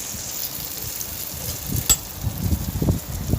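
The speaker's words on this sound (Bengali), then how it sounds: "দ্বিতীয়টা আমি ভাজতে দিয়েছি কচুরি" A second hing kachori of roasted gram flour goes into hot oil to deep-fry, giving a soft, close bubbling sizzle that builds toward the end, with one sharp clatter near the middle.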